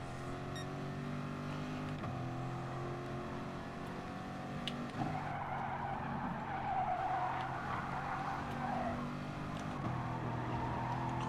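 A race car in a video game drifts and skids through a corner, tires squealing in a long sustained screech over the steady droning whine of the engine, loud and continuous with a brief gear-shift dip.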